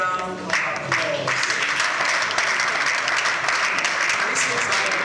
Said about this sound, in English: can we give ASBON an outstanding round of applause?